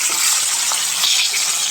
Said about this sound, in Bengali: দেখতে পাচ্ছ এই যে মাছ ভাজা হচ্ছে।